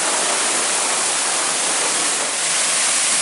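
Tunnel Falls on Oregon's Eagle Creek Trail, a high canyon waterfall, roars as a steady, dense wash of falling water close by, with no voices.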